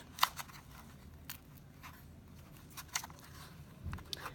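Clay petals are snipped around a sunflower shape with small scissors, producing a few sparse, close, crisp cuts and light rustling handling noises, separated by quiet pauses.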